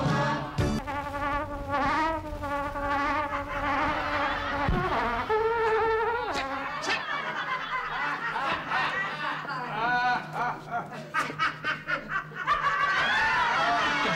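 A housefly buzzes close by in a comedy sketch, its whining drone rising and falling continuously alongside chuckling and snickering voices.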